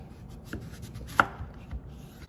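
A knife chops celery root into even bite-sized cubes on a cutting board, with a few sparse, soft knocks and one sharper chop near the middle over quiet room noise.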